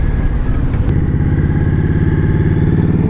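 A 2019 Indian Scout Bobber motorcycle runs steadily while being ridden, its V-twin engine giving a loud, close, even throbbing drone with little change in pitch and no talk over it.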